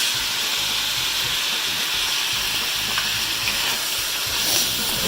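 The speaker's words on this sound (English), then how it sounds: "I'm gonna fry this in all this oil and ghee until it's browned a little bit on the outside" Chicken frying in oil and ghee with ginger, garlic and green chillies, a steady, loud sizzle and hiss with faint stirring and crackles throughout, no talk.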